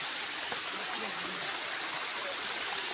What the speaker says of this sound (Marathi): हे धारेचं पाणी आता खाली चाललंय